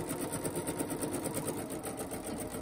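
A sewing machine runs a steady stitching burst, sewing and back-stitching an elastic ear loop onto a fabric mask, its needle chattering in a fast, even rhythm close by.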